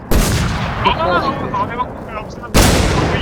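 Gunfire in an online multiplayer shooter game, with two loud sustained bursts at the start and end and a muffled stretch of game sound between them, while players talk over it.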